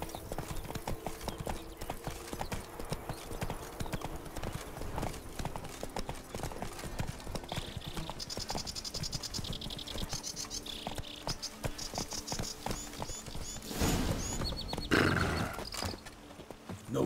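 Roach, the horse in The Witcher 3 game, walks with steady clip-clopping hooves over a constant buzz of insects and flies, and a brief whinny or louder burst comes near the end.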